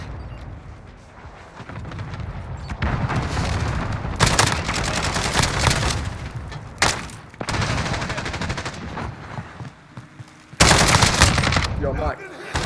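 Automatic AMAX assault rifle bursts in Call of Duty Warzone, loud rapid fire in repeated sustained bursts with brief gaps and sharp cracks, dense and close throughout.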